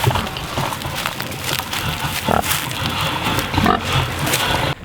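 Pigs on a pasture farm grunt and snuffle in a dense, continuous mix of close, loud oinks and rustling, with no talk over it.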